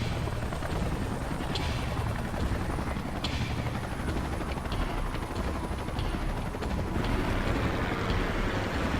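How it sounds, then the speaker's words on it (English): Salvage helicopters arrive in the sci-fi video game Xenoblade X with a steady, loud rotor roar and broadband wash that fills the whole stretch without pause and without talk. "Let's call in the salvage choppers and get it out of here."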